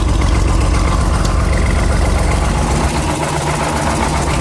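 Loud, close diesel engine of a bulldozer idling with a steady low rumbling chug and vibration throughout, no speech.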